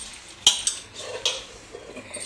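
Cauliflower pakoda batter being stirred in a bowl, with a few sharp clinks of a utensil against the bowl's side and soft wet mixing between them, close by, without talk.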